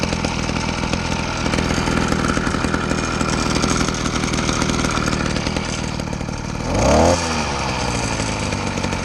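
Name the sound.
80cc motorized bicycle engine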